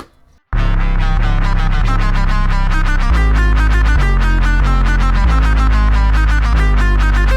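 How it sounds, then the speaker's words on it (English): 808 bass melody with gliding pitch slides layered over a deeper 808 pattern and crisp drums, a steady loud beat starting after a short silence and running continuously. "So basically sounds something like this with the melodic slides."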